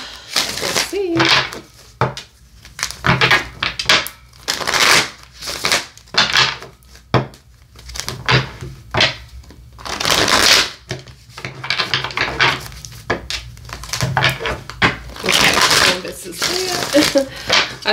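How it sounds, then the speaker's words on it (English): Repeated riffling and snapping of a tarot deck being shuffled, close and crisp, in irregular bursts with pauses between. "I love shuffling this deck."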